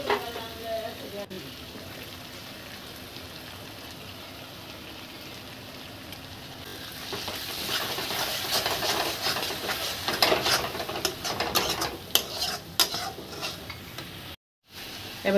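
Spice paste fries in hot oil, with onions already browned, a constant hiss that grows louder and crackly midway as it is stirred, with occasional utensil scrapes and a brief cut near the end.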